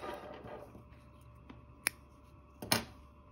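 Scissors snip through crochet yarn in a quiet room, two or three crisp, close cuts with a louder final double snip.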